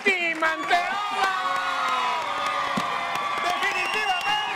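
A TV studio audience cheers, whoops and applauds at a Spanish-language late-night show, excited shouting voices over clapping, loud and close, with people calling out above the crowd.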